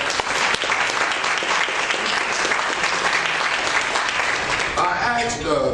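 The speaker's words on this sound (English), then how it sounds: "Give me the school board a round of applause." A crowd applauds loudly and steadily for several seconds, dense clapping filling the room before it begins to thin out at the end.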